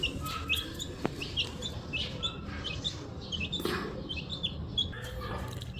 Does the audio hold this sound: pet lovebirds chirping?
yes